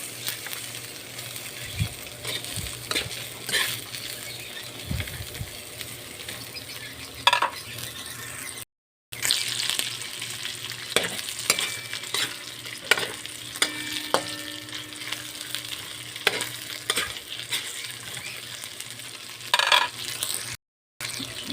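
Stir-frying in a hand-me-down wok, a steady close sizzle with scraping spatula strokes and occasional metallic clinks against the pan, continuing without pause.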